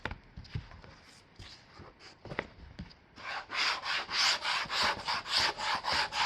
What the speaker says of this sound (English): I'll go with my light sandpaper on this too and make that nice and smooth.